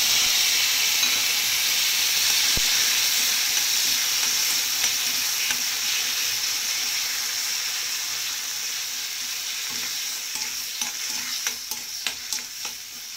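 Spinach and vegetables fry in a pan with a loud, continuous steamy sizzle and hiss, close up, gently easing off toward the end as a few scraping stirs come through.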